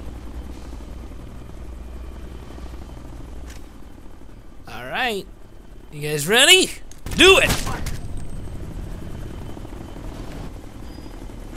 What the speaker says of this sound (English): Don't let that chopper see you.